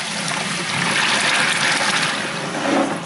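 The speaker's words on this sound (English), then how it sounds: "Just pour it all through a strainer" Water and soaked beans are poured through a strainer into a kitchen sink, giving a steady rushing splash that swells slightly and then continues for a few seconds.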